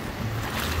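Strong ocean waves on a black sand beach make a loud, broad rushing wash that swells slightly toward the end, a brief continuous roar with no voices.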